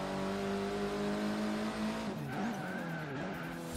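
A turbocharged Honda Civic Type R in the racing game Forza Horizon 3 drones at steady engine pitch, then brakes as the engine note drops and a tire squeal rises and holds briefly.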